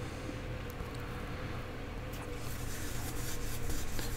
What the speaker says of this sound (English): that's the Easy Wood Tools small size detailer